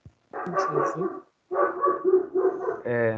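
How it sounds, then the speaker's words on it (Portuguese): A dog barks in several quick, close bursts, pausing briefly before a second run of yappy barks, with some speech mixed in. "O Luke não para de latir aqui."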